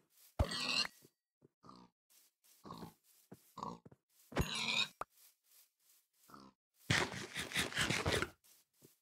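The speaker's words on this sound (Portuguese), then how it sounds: "Porco." Pig grunts and oinks from a video game, a series of short snorting bursts spaced irregularly, ending in a longer, rougher squealing grunt, heard alone without talk.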